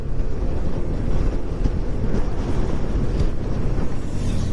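Strong wind gusts across an open field on a road trip near Baler, Aurora, heavy low buffeting and rumble filling the short stretch, with a vehicle likely droning underneath and no voices.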